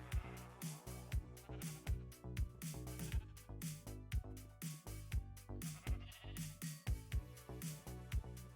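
Sheep in Minecraft bleat in a steady string of short calls over a rhythmic background loop, with no talking.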